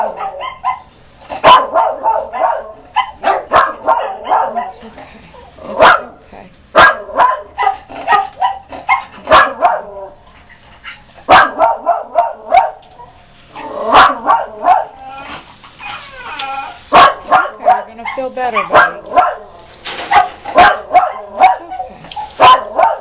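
Rescued dogs at a vet bark loudly and close in repeated bursts and volleys, with yips and whimpers between them and brief pauses throughout.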